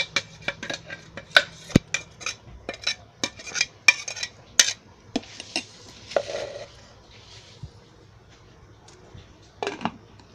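Jaggery, dates and tamarind stirred together in a metal vessel, with repeated clinks and scrapes of a spoon against the pot, irregular and close, and a few brief pauses.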